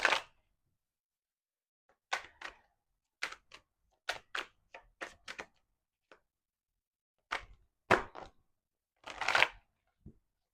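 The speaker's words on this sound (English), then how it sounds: "let's get a few more shuffles" A tarot card deck being shuffled by hand in bursts of crisp riffling and slapping, several short clusters separated by pauses, close and fairly quiet with no talk.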